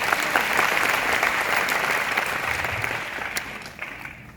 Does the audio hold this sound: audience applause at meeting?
yes